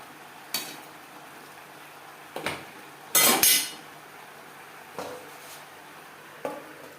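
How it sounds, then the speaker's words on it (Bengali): Vegetables being mixed with turmeric and salt in a pan for a winter vegetarian mixed-vegetable dish, heard as a few separate scraping clatters of a spoon against the pan, one longer and louder scrape in the middle, with no talk. "লবণ হলুদ সবজির সাথে বেশ ভালো করে মিক্সড করে দেবো"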